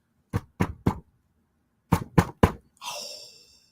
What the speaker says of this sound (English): Do you want to knock out there at home?